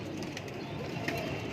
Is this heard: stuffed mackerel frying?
no